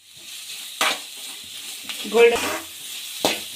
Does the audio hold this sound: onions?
yes